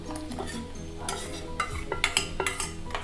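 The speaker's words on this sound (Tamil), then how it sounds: "இப்போ வேக வச்ச அந்த பருப்பையும் சேர்த்துடலாம்." Cooked lentils being stirred into boiling tamarind water, a spoon scraping and clinking against the pot amid bubbling and light sizzle, close and fairly quiet.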